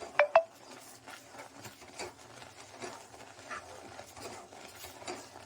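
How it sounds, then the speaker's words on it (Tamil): A spoon scrapes and stirs thickening milk in a pan for palkova, making soft, continuous scraping with a couple of sharper clinks of metal against the pan at the start. "நல்லா கைவிடாமல் கலக்கிட்டே இருங்க"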